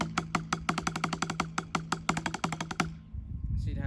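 Marching tenor drums play the opening measure of the Green warm-up, a fast, even stream of crisp sixteenth-note strokes with accented hits, close and loud, stopping abruptly just before the end.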